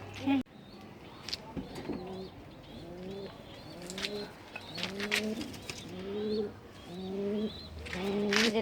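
Pigeons cooing on a rooftop, repeated close soft rolling coos in a regular series, with faint chirps, wing flutters and quiet voices in the background.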